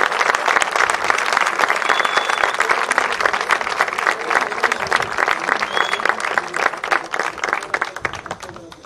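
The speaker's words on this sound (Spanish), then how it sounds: "así que podíamos darle un aplauso a los niños, levantaros" An audience at a school tribute applauds a group of schoolchildren with dense, loud, sustained clapping that fills the room and slowly thins toward the end, with voices mixed in.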